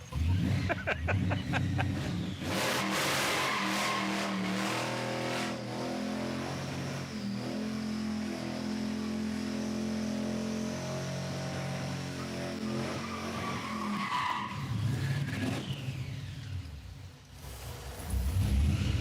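A supercharged 1957 Chevy with a 6-71 blown small block roars loudly as it accelerates hard for burnouts, its deep engine note mixing with screeching, skidding tires, with a brief drop and a renewed surge near the end.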